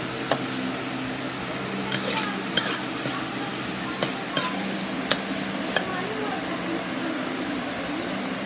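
Shredded cabbage stirred and sautéed in a home kitchen pan, with a steady low sizzle and a few sharp clicks of a utensil against the pan scattered through.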